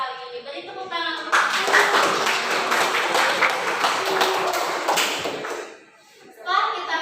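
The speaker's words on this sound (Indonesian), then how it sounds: "Beri tepuk tangan untuk" Classroom of students at a vocational school claps together for about four seconds, dense and close, with a few thumps and taps, bracketed by a teacher's talk before and after.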